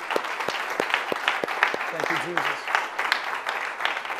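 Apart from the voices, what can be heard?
church congregation clapping hands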